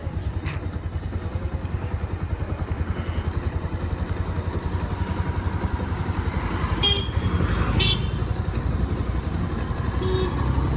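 A motorbike ridden on a night outing carries a steady, close engine drone throughout, with a few short horn toots from passing traffic.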